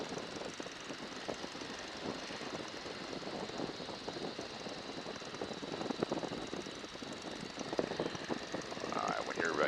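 A Stearman biplane trainer in flight gives a steady engine drone with a rushing wind whistle around the open cockpit, heard close and continuous, and voices talk faintly over an intercom beneath the noise.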